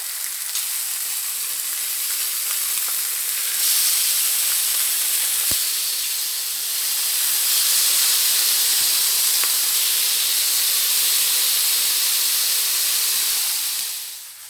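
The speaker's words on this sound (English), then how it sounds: "we just have to wait for our bacon to cook down a little bit, to get nice and cooked through and delicious" Bacon sizzles steadily in a pan while cooking down for clam chowder, a dense continuous hiss and crackle that swells slightly midway and holds close and even for the whole stretch, with no talking.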